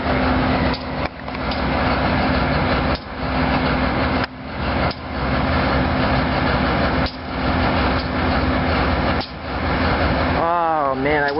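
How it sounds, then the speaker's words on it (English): A SEPTA train idles while switching over, making a loud, close, steady diesel rumble and drone with a few brief dips, and a rising warble near the end. "Septa train switching over right now."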